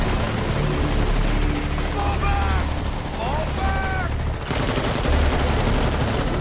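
Bursts of rapid gunfire in the Metal Gear Solid 5 video game, loud and continuous, with a helicopter-like drone and brief whistling tones mixed into the dense shooting.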